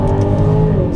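An Aston Martin DBX SUV accelerates hard in first gear, its engine note loud and rising steadily, heard close from inside or beside the car.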